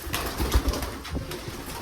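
Black Rajshahi pigeon cooing in a few soft, low throaty pulses, close by and fairly quiet, with no talking over it.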